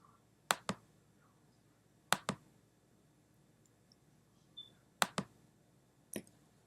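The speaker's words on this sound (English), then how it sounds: "We're going to click on the Get Media icon." Mouse clicks in a video editing program, arriving as four sharp pairs of clicks spaced a couple of seconds apart, each pair a quick press and release, close and crisp against a quiet background.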